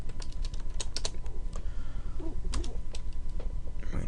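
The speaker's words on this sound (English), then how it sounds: "So we type in strings." Steady, close clatter of keys as code is typed on a computer keyboard, with irregular quick taps running throughout and no talking.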